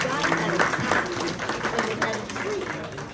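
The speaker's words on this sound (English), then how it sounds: "please give them a big round of applause" A crowd at a Rotary club awards evening claps in sustained applause, with voices talking and calling out through it.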